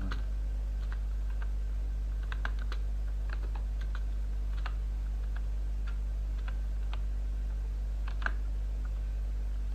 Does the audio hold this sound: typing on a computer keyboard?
yes